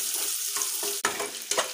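Onions fry in a pan with a steady, close hiss, broken by a few sharp scrapes of a spatula, including one louder scrape near the middle.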